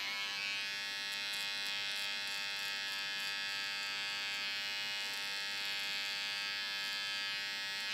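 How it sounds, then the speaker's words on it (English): Electric beard trimmer running steadily and close, a continuous high buzzing whine with slight fluctuations as it clips beard hair, no voices. "Use your trimmers, your fingers loose so you can move around."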